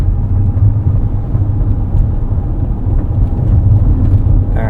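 Interior of a 2024 Mercedes-Benz eSprinter electric van on the move: a steady, continuous low road rumble and tire drone with a faint motor hum, even in level throughout, with no talking.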